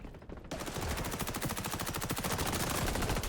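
MP5 submachine gun fire in the video game XDefiant, a loud sustained automatic burst of rapid evenly spaced shots starting after a brief quiet moment and continuing without pause to the end.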